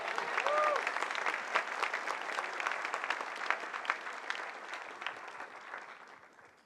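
A church congregation clapping steadily during a sermon, dense applause that swells briefly then gradually thins and fades out.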